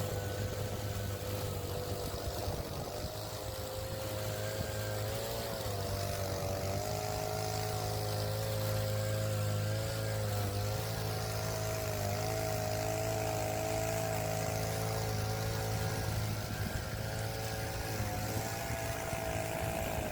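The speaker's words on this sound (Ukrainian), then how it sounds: "і починаю косити травичку" A motorized grass trimmer cutting grass during a first mowing, a continuous loud engine drone with shifting pitch as the head meets the grass, close and steady for the whole stretch with no talk.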